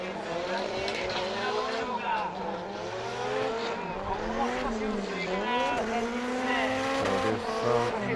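A Nissan S15 with an SR20 engine drifts during Formula DRIFT qualifying at Sportsland Sugo, its engine revving hard with rising and falling pitch and tires squealing, while an announcer talks over the noise.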